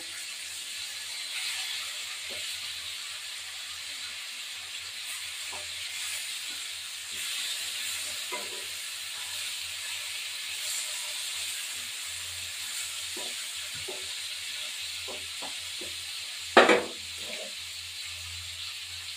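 Sarpunti fish fry in mustard oil with a steady, soft sizzling hiss, broken by a few quiet clicks and one sharp clack near the end.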